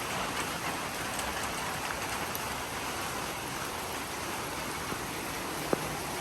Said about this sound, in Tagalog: Yan, kita mo talaga maulan na.